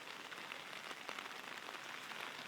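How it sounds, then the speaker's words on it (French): Moderate rain pattering steadily on surfaces outdoors, a dense even hiss of drops with scattered sharper ticks, fairly quiet and with no voices. "il pleut modérément"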